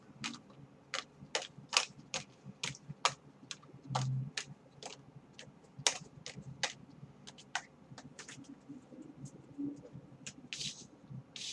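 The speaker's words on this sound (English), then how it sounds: "dealing these cards out here for us" Rapid, irregular crisp slaps and flicks of tarot cards being dealt one after another on a surface, close and quiet.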